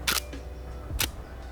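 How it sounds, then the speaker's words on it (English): A Hasselblad 500 C/M medium format camera fires its shutter close by, giving two loud mechanical clacks about a second apart over a low background hum. "The shutter sound that the Hasselblad makes is really satisfying"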